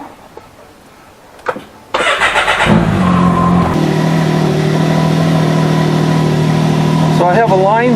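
A Can-Am X3 XRC side-by-side engine cranks and catches after a quiet moment, settling into a loud, steady idle with a brief rev near the end; a voice talks just before it fires.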